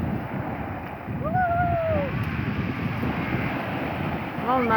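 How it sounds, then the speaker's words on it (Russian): Sea surf rolling onto a Black Sea beach at Tsandripsh, a steady wash with wind noise, while children's voices and talking sound over it. "Вон, Сонька, на тебя волна идет."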